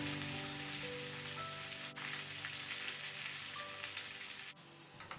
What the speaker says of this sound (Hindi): इसे हम पकने देंगे जब तक जो अनियंस है उनका कलर थोड़ा सा ब्राउन नहीं हो जाता